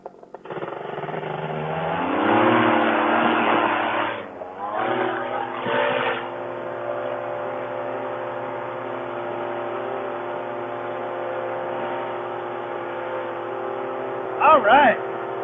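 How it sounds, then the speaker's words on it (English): Small aircraft engine warming up before a flight to Monument Island rises to a louder peak, then settles into a steady, close droning hum that holds to the end, with a few brief clicks near the finish. "let's get this motor warmed up and get on our way to Monument Island"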